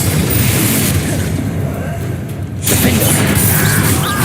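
Confringo blasting curse explosion in the video game Hogwarts Legacy, a loud dense burst of crashing noise that briefly dips and then surges again, over continuous game sound.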